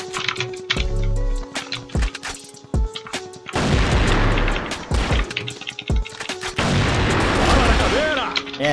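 Gunfire in the video game CrossFire rings out as sharp repeated shots and booming bursts, loud and close, with short rapid volleys and a few heavier blasts, mixed with game effects.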